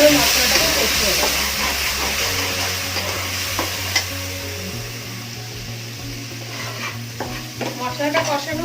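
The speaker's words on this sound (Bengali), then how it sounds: "অল্প একটু জল দিয়ে ভালোভাবে মশলাটাকে কষিয়ে নেব।" Spice paste with turmeric and a splash of water being stir-fried in a pan for a Bengali prawn and raw banana dish, a loud close hiss and sizzle with continuous stirring and occasional scrapes, no one talking.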